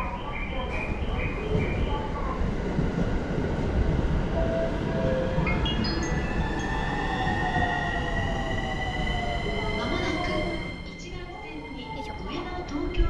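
A JR commuter train runs through Tokyo with a steady loud rumble of wheels on rails, rising and falling whining tones from the motors, and brief squeals.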